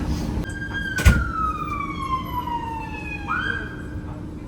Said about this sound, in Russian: Скорая приехала.